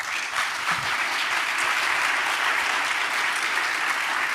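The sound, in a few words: audience applause for Élodie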